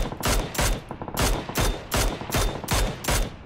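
PUBG gunfire rings out as eight evenly spaced loud shots, a steady rhythmic volley about twice per second, close and punchy with no talking.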